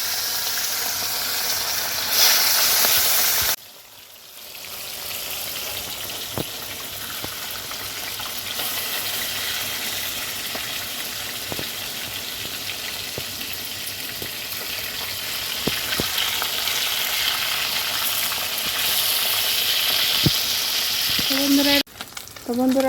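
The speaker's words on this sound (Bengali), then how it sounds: "এখন মাছগুলা ভেজে নেব।" Fish frying in hot oil in a home kitchen, giving a steady, continuous sizzle close to the listener, with occasional clicks and stirring sounds and a brief pause partway through.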